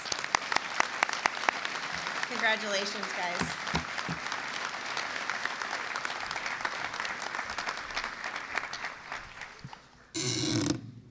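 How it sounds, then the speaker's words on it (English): Awards-day audience at Kenton High School applauds standing scholarship students, a steady run of clapping with brief voices over it at the start and a short loud burst near the end. "let's give them a round of applause."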